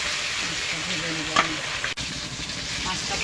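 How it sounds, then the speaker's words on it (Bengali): Fish fries in hot oil in a wok after being rubbed with turmeric and salt, giving a steady close sizzle with a sharp clack near the middle and faint background sounds. "মাছটা ভেজে নেব"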